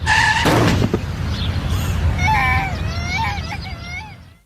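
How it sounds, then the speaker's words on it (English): A car sound effect of a vehicle striking a child at 30 mph: a brief tire screech and a short, heavy impact burst, followed by several seconds of faint, wavering high tones over a low rumble. "This is the sound of a child being hit by a car at 30 miles an hour."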